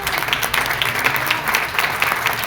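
A church congregation applauds at a Christian service, a steady wash of many hands clapping together at even strength throughout, with no voices standing out above it.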